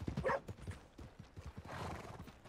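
Horse in the Red Dead Redemption 2 video game, with a whinny followed by a steady run of clip-clopping hoofbeats, quiet and close with some background game sound.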